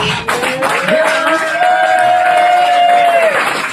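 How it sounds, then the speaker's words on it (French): A studio audience clapping and cheering on a French television show, a dense roar of applause that runs throughout under a sustained musical tone, with voices mixed in. "les gens applaudissent avant, bien sûr"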